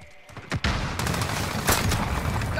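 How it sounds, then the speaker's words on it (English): Cluster strike explosions rain down in Call of Duty Modern Warfare, a quick string of sharp booms and rattling blasts arriving close together after a short quiet start, loud and close. "Allied cluster strike incoming."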